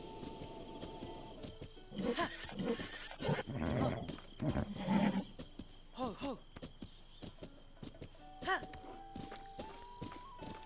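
A horse in the video game The Legend of Zelda: Breath of the Wild whinnies and snorts amid hoof steps, with someone talking calmly over it and game music faintly behind.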